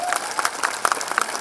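A crowd at an Urdu poetry recital applauds briefly, with clustered claps over a soft wash of murmuring and possible voices in the room.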